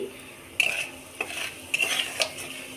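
Dried red chillies and five-spice seeds hit hot oil in a pan, giving a few sharp sizzling bursts with light stirring and utensil clinks, close and moderately loud, with no talking.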